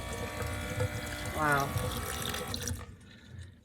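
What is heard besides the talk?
water from a sink tap draining into a gray water bucket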